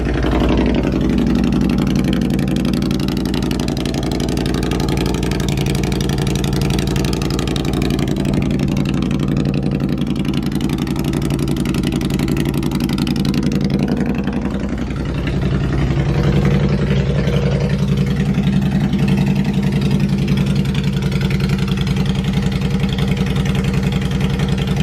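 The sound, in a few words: Honda Shadow bobber motorcycle engine starting and idling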